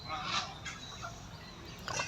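Geese honk a few times at a moderate distance in a sandy field, harsh calls rising over a steady low outdoor rumble.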